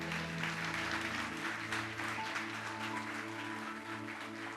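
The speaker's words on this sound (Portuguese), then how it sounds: "Você pode aplaudir Jesus por isso?" A church congregation applauds, steady broad clapping from many hands throughout, with sustained organ or keyboard chords held underneath.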